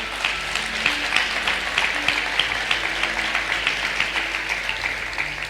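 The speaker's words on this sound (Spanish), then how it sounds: "le damos un fuerte aplauso al Señor" Applause from a church congregation during a sermon, a steady dense patter of clapping that holds evenly throughout, with a faint low hum of voices beneath.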